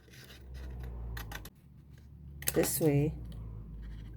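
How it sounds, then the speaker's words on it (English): Scissors cutting paper for a handmade Valentine's papercraft card, several short crisp snips up close, followed by a brief burst of a person talking. "cutting on this one like so. So cut all the way up to the top, then come back, cut this way,"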